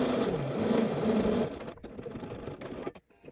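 A sewing machine runs steadily while stitching a half-inch shoulder seam on a shirt, a close, continuous motor whir for about a second and a half before slowing and stopping with brief quieter pauses.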